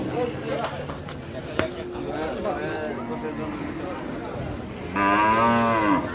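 Cattle moo at a village livestock market, with a few low calls through steady crowd babble and a louder, closer moo near the end.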